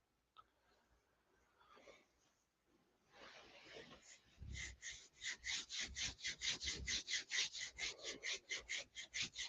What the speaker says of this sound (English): Rubbing our hands together